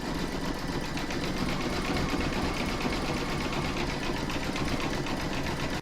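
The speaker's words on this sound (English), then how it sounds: "I'm going to pop that into my machine and stitch round number 10, and that's going to do the zigzagging over all" An embroidery machine stitches a zigzag over the raw fabric edges of in-the-hoop bunting, its needle hammering in a fast, steady, even rhythm close by with no voices.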